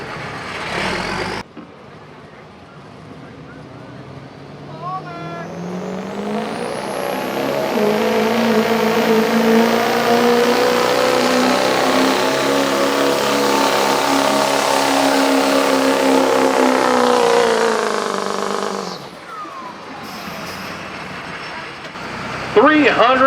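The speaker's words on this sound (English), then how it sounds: "2005 Ford 6-liter." A 2005 Ford 6-liter diesel pickup roars through a truck pull run in the diesel class, its engine climbing in pitch and holding a loud, sustained drone for over ten seconds before dropping off, with an announcer talking over it.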